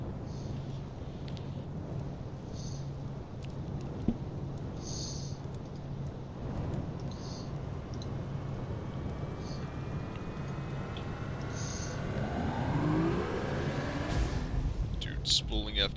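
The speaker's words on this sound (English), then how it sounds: "Spooling FTL never gets old." An FTL drive spools up in the Starbound video game, a rising, swelling tone that climbs steadily and peaks near the end under continuous voices talking.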